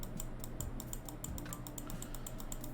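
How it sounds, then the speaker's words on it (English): Rapid, steady clicking of a gaming computer mouse at a desk, a quiet run of crisp clicks over a low background hum, with no talking. "clicking the gamer mouse with your gamer fingers"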